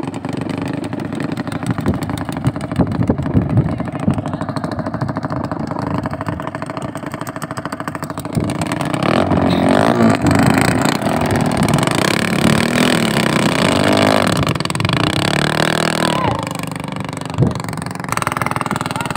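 A racing boat engine running during a 2024 bancarera race in Biliran, a buzzy motor that hums steadily and then grows louder and rougher midway, with crowd and background noise around it.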